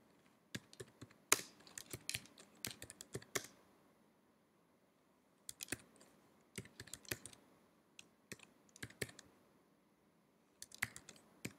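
Keys clatter on a computer keyboard as a command is typed, in quick bursts of close, crisp clicks separated by short pauses, with no talking.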